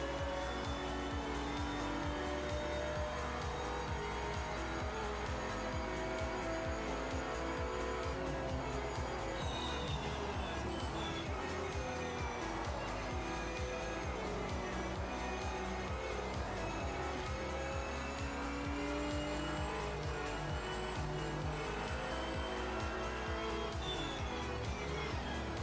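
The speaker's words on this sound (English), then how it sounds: "I love when I spin out because I'm trying not to hit the AI." Race car engine drones steadily in Project Motor Racing during qualifying, with a spin-out and tires squealing as pitch sweeps shift, continuous and fairly loud throughout.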